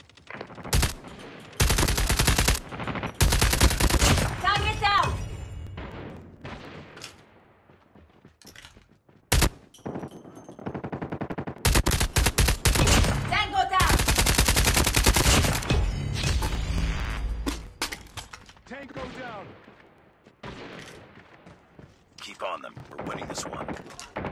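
Turret gunfire in Call of Duty Mobile, loud sustained automatic bursts in several long volleys separated by brief pauses, up close with scattered game effects and no talk.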